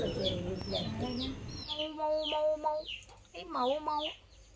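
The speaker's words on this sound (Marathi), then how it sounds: "गावातल्या घरांमध्ये तुम्हाला असा छोट्या छोट्या कोंबडीच्या पिल्लांचा किलबिलाट ऐकायला भेटेल" Small chicks peeping inside a village house, repeated high thin chirps in quick bursts, close and clear, over an earlier stretch of low clucking and background bustle.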